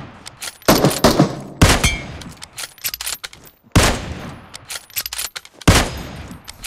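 Gunfire in the mobile shooter BGMI from shotgun, M4 and K98 fire, several loud sharp bursts and single shots spread across the clip with quiet gaps between them.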